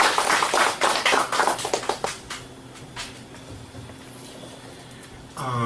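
Scattered audience clapping in a lecture hall fades out over a couple of seconds into quiet room noise, followed by a brief rising sound at the end.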